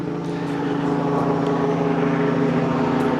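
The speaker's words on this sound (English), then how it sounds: "as we hear Chopper go over" Helicopter passing overhead at a cemetery headstone cleaning, a steady loud rotor and engine drone with tonal hum filling the whole stretch, no talk over it.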